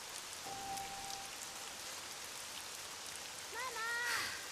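Constant rain falling in the video game Shadow Corridor 2, a dense even hiss throughout, with a short tonal note early on and a rising warbling voice-like sound near the end over the downpour.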